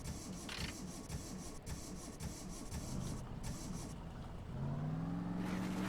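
A car engine in The Long Drive video game, in a modded rust bucket, cranks with a rough, grinding starter whir for several seconds before catching and settling into a steady running hum near the end.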